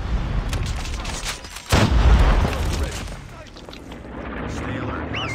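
A frag grenade explodes with a heavy, close boom amid bursts of gunfire in the mobile shooter game Call of Duty Mobile, followed by game voice lines speaking over the fading noise.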